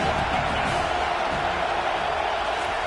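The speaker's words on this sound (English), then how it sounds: "This crowd trying to make life miserable for this offense." Steady roaring stadium crowd at a USC college football game, a dense continuous wash of noise with no breaks, loud and enveloping throughout.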